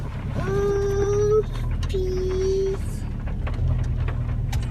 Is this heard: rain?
yes